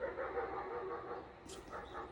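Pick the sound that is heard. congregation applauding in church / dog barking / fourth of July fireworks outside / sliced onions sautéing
dog barking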